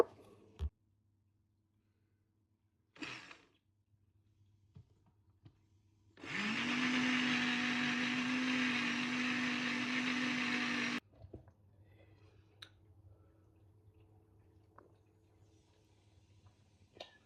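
A countertop blender whirring steadily for about five seconds while making a shake in a student kitchen, loud and close, with scattered clunks and handling noise before and after.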